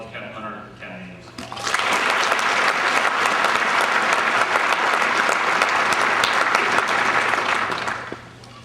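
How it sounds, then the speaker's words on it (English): Audience at an army captains career course graduation ceremony bursts into sustained, loud applause after a short quieter opening, holding steady for several seconds before tapering off at the end. "Please join me in a round of applause for Captain Hunter and Captain Ames."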